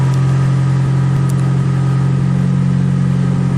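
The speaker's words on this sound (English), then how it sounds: "It's running though, and it seems to already be idling way better." A car engine runs at a steady idle after a fuel pump repair, with a loud, close, even hum and a faint ticking over it, and no voices.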